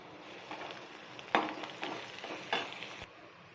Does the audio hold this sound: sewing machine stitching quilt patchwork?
no